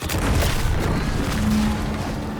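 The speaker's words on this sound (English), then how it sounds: "What's that? An explosion?" Explosion in The Outer Worlds 2, a dense sustained rumbling boom lasting a couple of seconds with a low droning tone underneath, loud and close with no speech over it.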